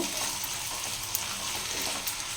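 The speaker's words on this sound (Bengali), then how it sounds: "রসুনের যে পেস্টটা সেটাই আমি এক চামচ দিয়ে দিচ্ছি দেখুন এই চামচের এক চামচ এটা একটু ভেজে নেব" Ginger, chilli and garlic paste frying in a pan, a dense continuous hiss and sizzle heard close up with a couple of faint ticks from the spoon.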